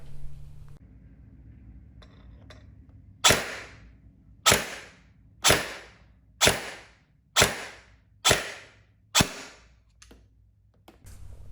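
VFC Avalon airsoft gun firing: a series of seven sharp, evenly spaced cracks about one second apart, each with a quick decaying tail, over a quiet mechanical hum.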